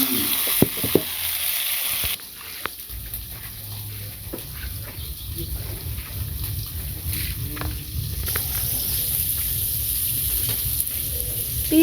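Small freshwater fish frying in a pan in a village kitchen, a steady close sizzle that starts after a brief pause and continues throughout with occasional pops and stirring clatter.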